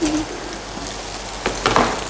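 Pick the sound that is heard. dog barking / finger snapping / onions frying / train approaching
onions frying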